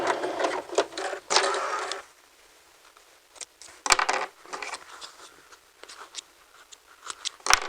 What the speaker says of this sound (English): continue sewing, and the machine will go back down to the first bar tack